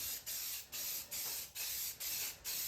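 Matte black Krylon spray paint hisses onto the wooden speaker grill of a Robotron arcade cabinet in six steady, evenly spaced bursts, each close and loud with brief pauses between.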